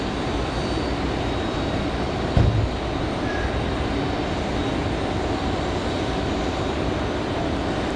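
A Delta airliner from LAX arrives at Raleigh-Durham International Airport on a windy day, heard as a steady, broad jet roar mixed with wind noise, with one brief thump partway through.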